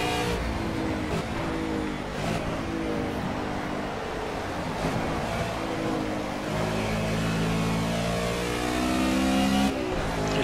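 Racing car engines roar in the driving game Project CARS during a GT touring race at Silverstone, with a Mercedes SLS among the cars, producing a steady, loud engine drone whose revs rise and fall through gear changes.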